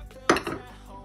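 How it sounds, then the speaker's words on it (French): Green beans tipped into a cooking pot while preparing a homemade macédoine of vegetables, giving one sharp clattering thud of beans against metal followed by a brief settling rattle, close and alone. "Les 3 minutes s'étant écoulées, je vais ajouter les haricots verts."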